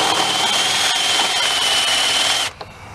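Power drill boring shallow, roughly eighth-inch-deep holes into a piston to remove weight for balancing, a steady high whine running loud and close for about two and a half seconds before cutting off abruptly.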